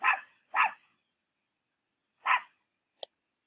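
An anxious puppy barks three times, two quick sharp yips close together then a third after a pause, followed by a brief click, all in an otherwise silent indoor room.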